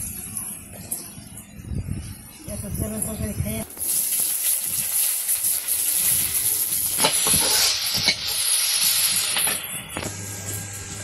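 Onions and green chillies sizzle in hot oil in a village kitchen, a steady loud hiss that swells after a few seconds and carries on with scraping stirs, while voices murmur faintly early on.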